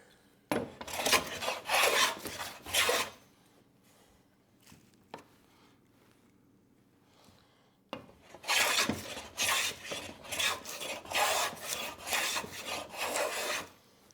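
A hand plane takes skewed smoothing cuts along a wooden board, two long rasping strokes of shearing wood separated by a quiet pause with a faint knock, close and clear with no speech.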